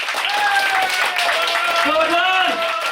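An audience at a Manali boot camp gathering claps steadily to welcome a speaker onstage, a dense, continuous wash of applause with a voice and sustained tones riding over it.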